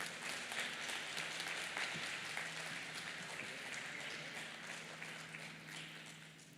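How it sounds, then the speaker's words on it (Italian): Warm applause from the audience at a national conference, a continuous patter of many hands that is fairly soft and slowly fades toward the end. "per cui un applauso caloroso"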